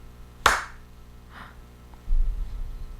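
A person claps alone in a quiet room: one sharp, loud clap, then a softer second one and a faint third, with a low rustling breathy noise near the end.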